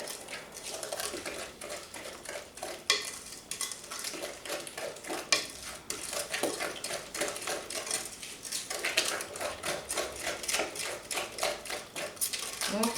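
Eggs being mixed into fudge brownie batter in a bowl make quick, rhythmic scraping and tapping of a utensil against the bowl. The sound is close and busy and holds steady, with no talk over it.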